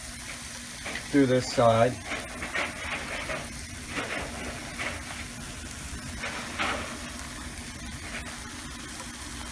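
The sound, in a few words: toast with rabbit ragu and cheese frying in a pan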